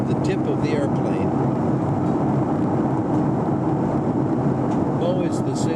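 Inside an airplane cabin in flight near Mount Rainier and Tacoma, a constant broadband engine drone fills the background, steady and unbroken, while someone talks over it.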